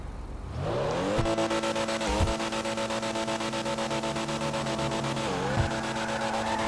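A car engine in Grand Theft Auto V roars steadily and revs up, with pitch sweeping up after each gear shift, a smooth, synthetic-sounding racing engine.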